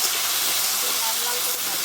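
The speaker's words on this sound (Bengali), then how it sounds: "এবার খুব ভালোভাবে কচুটাকে আগে ভেজে নেব," Taro (kochu) fries in a pan for a Bengali gathi kochu dish with prawns, giving a dense, steady hiss like steam that stays even and close throughout.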